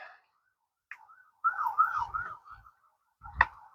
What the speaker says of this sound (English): of course it's gotta be noisy with the sirens.